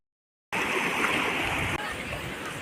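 Water from Oliyappara waterfall in the Anaikatti Hills rushes and splashes over rocks as a steady, close broadband roar that begins abruptly after a short silence and continues without a break.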